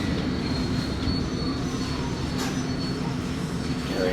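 A London Underground Metropolitan line train arriving at Amersham station, heard from on board. There is a steady, loud rumble of wheels on track with a faint squeal of the wheels running through it, and no one talks.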